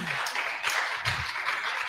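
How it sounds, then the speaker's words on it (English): Steady crowd applause at an African campaign event in Ethiopia, a dense, continuous wash of many hands clapping that holds an even level throughout. "Could you clap your hands for him?"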